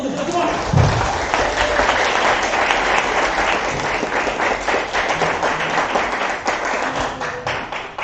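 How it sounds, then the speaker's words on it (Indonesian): An audience at a school alumni teaching event at SMK Negeri 7 Semarang gives sustained, dense applause, with loud continuous clapping that holds for several seconds. "Tepuk tangan yang meriah untuk kita semua"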